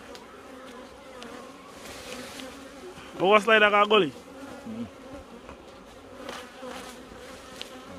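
Bees swarm during bee hunting in the Jamaican hills, a low steady buzzing beneath outdoor noise while someone speaks briefly in the middle.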